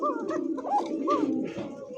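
Pigeon cooing up close, a few soft throaty rolling coos in quick succession.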